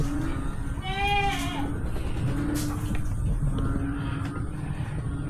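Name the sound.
goats bleating on a farm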